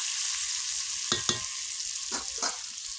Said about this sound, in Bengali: মাছের মাথাটা ভাজা হয়ে গেছে